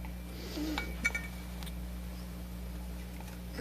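A rubber spatula clinks lightly against a mixing bowl while brownie crackle cookie batter is mixed, two quick faint taps close by in an otherwise quiet kitchen with a low steady hum.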